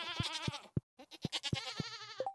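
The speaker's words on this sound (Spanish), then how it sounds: "Acariciamos a las nuevas cabras." Goats bleat in quick succession in the farming game Stardew Valley, a run of short, wavering cries ending in a higher-pitched tone, close and clear with no speech.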